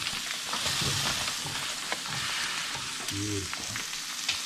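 Smoked venison sausage links sizzling in a pan over moderate heat, a steady close frying hiss with light stirring clatter, with a single brief spoken word.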